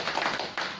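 Hand claps demonstrated in a small room, a few sharp claps spaced about half a second apart, close and moderately loud, with no speech over them.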